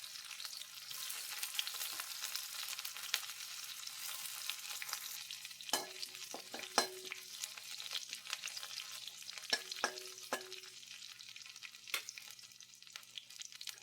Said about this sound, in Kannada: ಎಣ್ಣೆ ಬಿಸಿಯಾದಾಗ ಮೊದಲಿಗೆ ಶುಂಠಿ ಬೆಳ್ಳುಳ್ಳಿ ಹಾಕ್ತಾ ಇದ್ದೇನೆ.